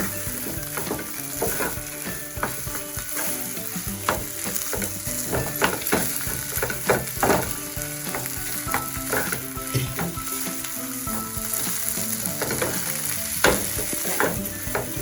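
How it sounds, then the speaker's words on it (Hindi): Roasted cumin and coriander powder stirred into samosa filling frying in a kadhai: continuous sizzle with repeated scraping and clinking strokes of a spoon against the pan, close and steady, no voices. "अब ये जो जीरा और धनिया जिसको मैंने सूखी कढ़ाई में थोड़ी फ्राई करके पाउडर बना के रखी थी, उसे मैं मिला देती हूँ।"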